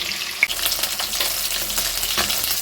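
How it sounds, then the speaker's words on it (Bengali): Marinated rui fish pieces frying in mustard oil in a well-heated kadai, turned over until reddish, making a steady, close, bright sizzle with a small clatter near the start. "মাছগুলো আমি উল্টো পাল্টে বেশ লাল করে কিন্তু ভেজে নামিয়ে নেবো"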